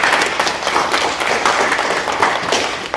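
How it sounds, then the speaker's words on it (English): Graduates at a spring commencement celebration applaud themselves, loud close dense clapping from a crowd, steady throughout with no speech. "I want you to give yourself a round of applause"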